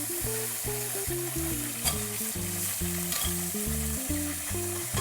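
Pork with pickled greens and garlic stir-frying in a hot wok makes a steady, continuous sizzle and stir. Background music plays throughout.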